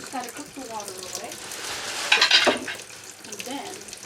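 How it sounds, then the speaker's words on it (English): Water sizzles and spits in a hot pan, with a louder crackling burst midway and a voice murmuring faintly underneath. "You first just gotta cook the water away,"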